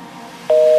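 A phone busy-signal tone cuts in partway through, a steady, loud electronic beep within a Hindi-Punjabi pop song, entering abruptly after a quiet musical passage.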